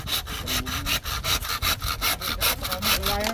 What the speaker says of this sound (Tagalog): Yan pala eh, bilis ng lagari.